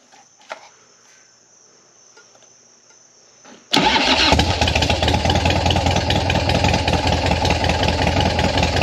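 An FXR motorcycle engine cranking and firing up after repair work on a cutting-off fault: crickets chirp faintly in a quiet setting, then the engine catches suddenly and runs loud and steady up close.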